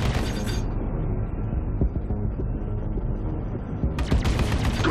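Spaceship guns in the Star Citizen game fire in controlled bursts, dense rapid shots filling the clip with a brief lull in the middle before heavier fire resumes, no talking.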